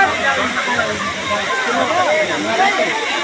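Deojharan waterfall in Sambalpur pours steadily into a pool, a broad continuous rush of falling water heard up close with a faint murmur of people in the background.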